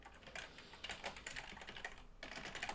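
Quiet, rapid clatter of fingers typing code on a computer keyboard, irregular bursts of close keystrokes with a brief pause near the end, no talking.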